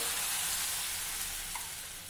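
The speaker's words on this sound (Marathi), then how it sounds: "हे पीठ आपल्याला तव्यावर घालायचं आहे" Fasting dosa batter hits a hot griddle, giving a steady, close, soft sizzle and hiss that fades slightly as it settles, with no voices.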